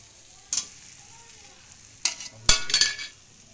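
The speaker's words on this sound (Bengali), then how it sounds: "মশলাগুলো আমার কষানো হয়ে গেছে। এখন আমি দিয়ে দেবো আলুগুলো।" Hot spices frying in a pan with a steady soft sizzle, broken by a few sharp clinks and a louder crackling burst as potatoes are tipped in, all close and without talk.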